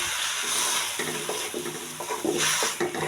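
Noodles sizzle in a hot pan while being stirred, with soft scraping and clinking of the utensil over a steady frying hiss.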